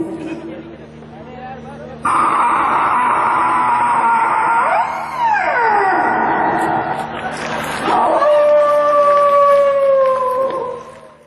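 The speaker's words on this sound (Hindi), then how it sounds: "दरवाजा खुलना बहुत पुराना, जो आज तक कभी न खुला हो," A very old door creaks open in one long, groaning drawn-out creak, its pitch sliding and wavering up and down for several seconds, loud and close.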